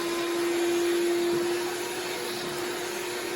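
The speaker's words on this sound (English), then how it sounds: "Maybe I can just vacuum it out quickly. It's my 150 horsepower shop vac." A shop vac runs over the cabin air filter area of an Impala, giving a loud steady whooshing drone with a thin whine that fades halfway through, and no talk.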